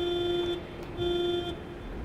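Car horn in the Pacific Drive video game sounding two sustained honks, each about half a second, loud and clear over low engine rumble with no talking.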